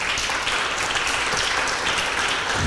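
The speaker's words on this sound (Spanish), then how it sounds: "Veo que ya se encuentra el doctor Castro, lo vamos a recibir con muy fuertes palmas" An audience in a lecture hall at an academic session claps steadily, a dense, continuous wash of applause welcoming a lecturer, with no voices over it.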